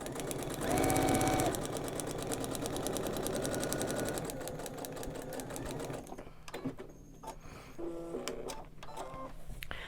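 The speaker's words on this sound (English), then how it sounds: "So I'm just going to sew the line between C1 and C2." A sewing machine stitches a seam in quilt fabric, running fast and steady with a rapid mechanical chatter for several seconds, then slowing into short, stop-start bursts near the end, with no talk.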